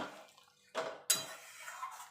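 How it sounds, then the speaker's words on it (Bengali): Potatoes go into a boiling curry gravy for a vegetarian yogurt dum aloo, making two clattering, splashing drops close by, with a short quiet pause before each. "এবার আমি আলুগুলো দিয়ে দেবো।"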